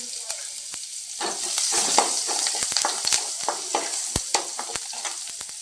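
Chillies and spices frying in hot oil in a pan for a spicy sandwich, a steady close sizzle and crackle with scattered sharp pops and a brief stir throughout.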